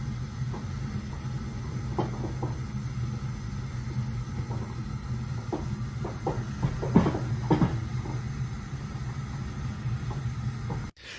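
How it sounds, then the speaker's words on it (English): An old tank water heater with built-up sediment rumbles steadily and low as its water heats, with scattered pops and knocks breaking through the continuous drone. "as that water starts to heat, you can hear a rumbling noise"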